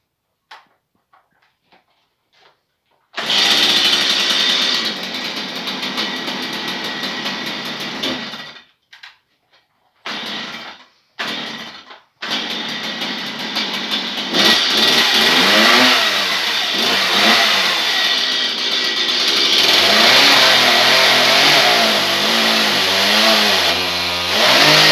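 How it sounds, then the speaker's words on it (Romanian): A Stihl MS 170 chainsaw cuts thick hornbeam under heavy load: the engine starts, sputters through a few short bursts, then runs loud and continuous with a strained, wavering pitch as it bites through the wood, close up and without speech. "revenit azi cu al treilea video cu drujba mea stil MS-170. Vreau să vă arăt cum tai eu lemne cu ea în lemn gros de carpă"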